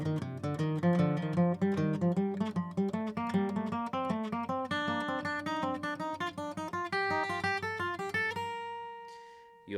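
Fiddle playing a reel-style scale pattern climbing in groups of four notes, a quick continuous run of bowed notes rising steadily in pitch, close and alone, ending on a held note.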